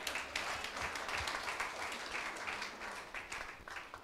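A church congregation applauds during a sermon, a dense, steady patter of many hands clapping at moderate volume that tapers slightly toward the end.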